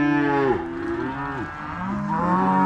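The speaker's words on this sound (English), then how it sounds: "the calves and cows are complaining because we've separated the calves right here in the pen behind me" Cows and calves mooing in a pen at weaning time, several loud, drawn-out bellowing moos overlapping one after another close by, with no talk.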